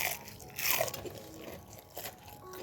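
Someone bites into a crispy fried Indonesian vegetable fritter (bakwan sayur) up close, giving a sharp crunch followed by a few quieter crackling chews.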